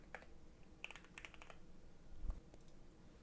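A few quiet keystrokes on a computer keyboard typing a component name in Fusion 360, scattered soft clicks over about three seconds with a faint low thump near the end.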